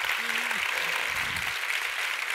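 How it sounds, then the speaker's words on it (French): A small group at a workshop debrief applauds a participant named Thierry, a short burst of steady clapping with voices talking over it. "Oh, bah bravo, ça s'applaudit."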